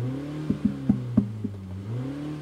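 Car engine revving heard from inside the cabin, a steady low hum that rises and falls, punctuated by several sharp knocking clicks in quick succession, no talk.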